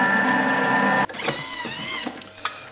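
A Thermomix running at speed 5 in reverse, mixing powder, an egg and a pinch of salt for a flan pâtissier: a steady loud whirring motor hum that cuts off abruptly, then quieter clicks and clatter.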